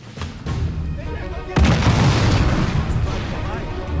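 Grenade explosions in Sniper Elite 5, a sudden heavy boom midway that leaves a long, loud rumbling decay, preceded by quieter battle noise and with voices speaking over the scene.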